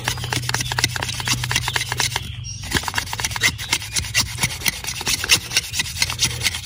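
A knife carves shavings from a split piece of wood for bushcraft fire lighting, giving a steady run of close, dry rasping scrapes with a brief pause midway.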